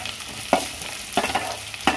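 Finely chopped onions fry and get stirred in an oil-filled pan for a potato poriyal, with a steady broadband sizzle and three sharp scraping stirs spaced through the stretch.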